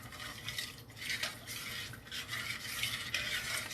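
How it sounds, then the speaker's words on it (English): Creamed chicken is stirred in a pot with a spoon, making soft, close, repeated scraping and swishing strokes at a low level with no talk. "And let me stir the pot."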